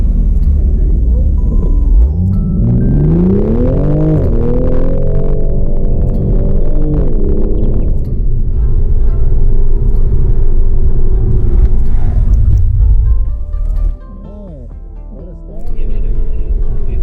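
Toyota GR Supra on a track day, engine rising in pitch as it accelerates hard, then a steady rumbling drone and a sharp drop as it brakes to a full stop, with someone talking over much of it.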